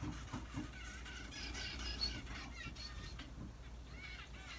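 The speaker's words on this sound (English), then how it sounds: "My birds are getting a little frisky in the corner." Pet birds in the corner of a room squawk and chirp in a quick run of shrill, overlapping calls at moderate loudness, steady throughout with no talking.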